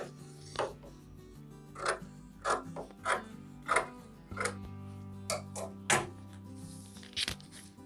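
Scissors cut through skirt fabric for a small girl's skirt in a series of crisp, irregular snips and rasping slides, close and moderately quiet.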